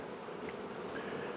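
Italian honey bees swarm densely around hives in a beeyard, a continuous, even buzzing hum with no voices.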